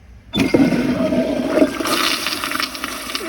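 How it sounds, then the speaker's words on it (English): An American Standard Cadet pressure-assist toilet flushes with a sudden loud whoosh, a forceful rushing surge of water close up that continues steadily for several seconds, with a washcloth and grocery bag in the bowl. "So let's see how it does on a washcloth and a grocery bag."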